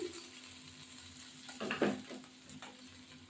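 Bombay duck (loitta) fish frying in a pan, a soft steady sizzle with a few stirring scrapes and clinks of utensil against the pan, quiet and close.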